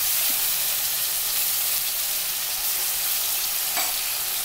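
Ginger-garlic paste sizzles in a pan over low flame, a loud, dense, continuous frying hiss with a faint tap or two and no voices.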